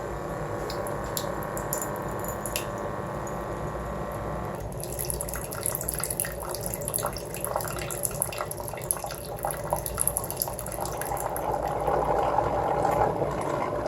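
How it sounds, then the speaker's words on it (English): A MEROUS single-serve coffee maker runs a cleaning cycle, its pump humming and hot water gurgling and dripping steadily through the machine, shifting partway into a busier, sputtering flow that grows slightly louder toward the end. "we'll wait till everything has been going through the machine and"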